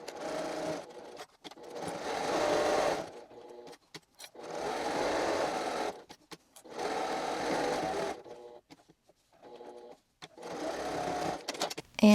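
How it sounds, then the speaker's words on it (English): A sewing machine stitches a reusable kitchen cloth in several bursts of fast, buzzing running, separated by short pauses for repositioning, close and clear. "sew your U all the way around, and then back stitch at your right side mark"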